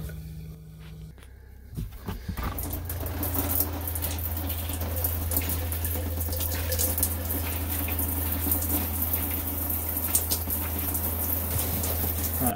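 Pink antifreeze runs from an RV faucet during winterizing, a pump kicking on and water splashing steadily into a sink, close and continuous with faint clatter and no talk.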